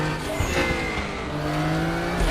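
Race car in the RaceRoom racing game, Silhouette Series at the Portimao circuit, approaching with a steady droning engine tone and a faint tire squeal rising near the end.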